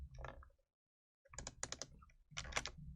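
Keyboard shortcut keys pressed while retouching in Photoshop, a quick cluster of close clicks and taps in three short bursts separated by a brief silence.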